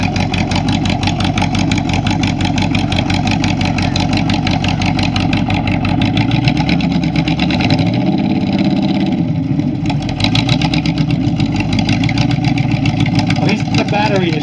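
The engine of a 1962 Plymouth Sport Fury convertible, one with a battery problem, idles loudly and steadily at an outdoor concours show, with a few brief rev swells along the way and a voice talking over it.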